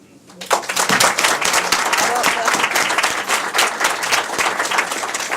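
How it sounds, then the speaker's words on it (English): Applause from the audience at a human relations commission awards event bursts in after a brief pause and carries on as dense clapping, with a voice speaking briefly at the start. "give a big hand applause to the new Windsor Service Center"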